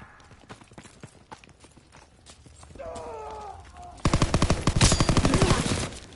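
Call of Duty WW2 gameplay on PS4, starting with scattered clicks and a brief tonal sound, then a loud rapid burst of automatic gunfire close up to the end.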